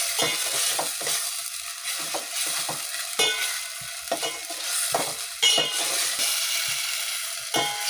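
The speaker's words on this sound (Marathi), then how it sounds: "त्याचं हे वाटण आहे। तेही छान परतून घ्यायचं।" Ground paste of roasted coconut, white sesame, ginger and garlic sautés in oil for misal, with a continuous sizzle and frequent scraping, clattering stirs of a spoon against the pan, close and without talk.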